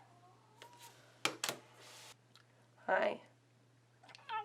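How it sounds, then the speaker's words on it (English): A cat gives a short meow near the middle, amid soft clicks and a few quiet handling noises, and a person briefly speaks a greeting. "there's a cat in here"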